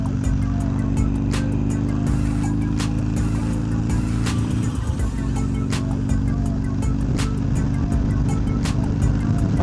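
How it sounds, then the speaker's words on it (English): Wind rushing past a rider on a Harley Iron 883 on the interstate, a loud continuous buffeting roar blended with the low engine drone and sharp gust thumps. "I'm getting a little bit of wind"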